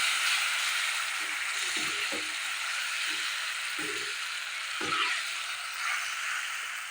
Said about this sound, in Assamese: এয়া মই মছলাখিনি মিডিয়াম ফ্লেমত এইদৰে ভাজি আছোঁ।